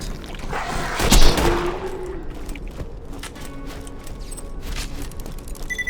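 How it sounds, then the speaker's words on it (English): A blue Gatling gun firing in Borderlands 2, opening with a loud heavy burst and settling into dense, sustained rattling fire with faint mechanical whine, close and continuous. "why does it take so many shots with a blue Gatling gun?"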